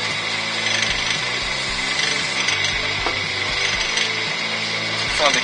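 Wood lathe turning slowly with a friction bowl sander pressed on a woodturned bowl, a steady droning hum with a rhythmic low throb and a constant gritty rubbing hiss, close and unbroken throughout.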